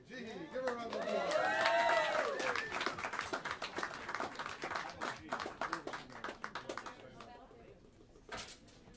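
Audience applause rings out in a small live jazz club in New York City for a piano player during a quartet set, a dense burst of clapping with whoops that thins into scattered claps, heard under some speech.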